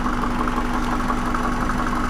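A warmed-up Subaru Forester engine idling, a steady even hum with a constant low drone and faint vibration, close and unbroken with no voices.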